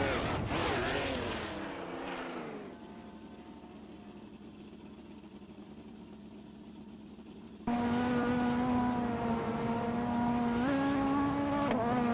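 An early-1990s Ford Sierra Sapphire race car engine in a racing game revs down to a lower steady drone, then jumps to a louder, higher-pitched sustained whine with a slight pitch step near the end.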